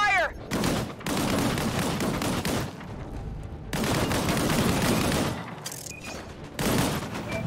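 Heavy gunfire in the video game Disintegration, with dense bursts of shots and booming impacts coming in long loud waves separated by short lulls, voices shouting in between.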